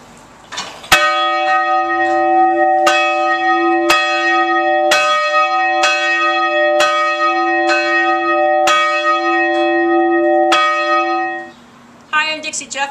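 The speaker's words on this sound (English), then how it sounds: "we ring the victory bell" A university victory bell rings loud and close, about ten evenly spaced clangs with long ringing tones that overlap, before the strokes stop and voices start up at the end.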